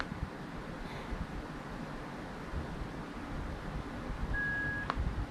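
A single short electronic beep from a Bilmola Spiker Bluetooth helmet intercom during pairing sounds near the end, a thin clear tone over steady wind-like background hiss.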